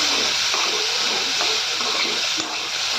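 Potato bhujiya with chopped tomato fries in mustard oil in a home kitchen, giving a loud, steady, close sizzle with faint stirring scrapes and no talking.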